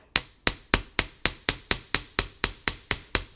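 A chasing hammer taps a wire loop flat for wire-wrapped bead earrings, a dozen crisp metallic strikes in an even, quick rhythm, loud and close with no talking.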